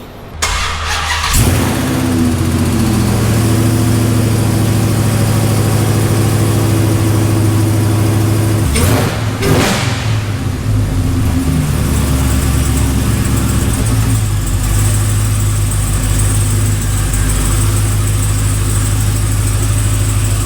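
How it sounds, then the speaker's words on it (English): The Hellcat engine swapped into a Dodge RAM 1500 truck cranks and fires up, then settles into a loud, deep, steady idle. A brief rev comes around midway, and the engine keeps rumbling close by. "I'm gonna fire up the Hellcat"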